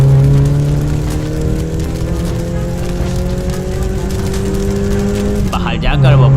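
An animated cartoon car revs and pulls away as a loud, rising engine whine with gear-shift tones over a hissing bed, ending in a fading squealing flutter, with narration over it.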